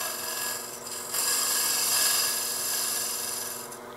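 A lathe turning tool shears across a spinning wooden goblet, giving a steady, close, fairly loud hiss and rasp that holds for about four seconds with a brief dip near the start.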